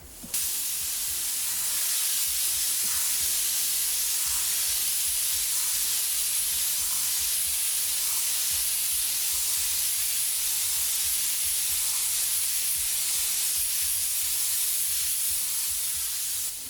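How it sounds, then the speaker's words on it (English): An airbrush sprays medium gray paint in a steady, continuous hiss that runs unbroken and fairly loud throughout, with no voices. "We're going to take that and we're going to spray it right over top."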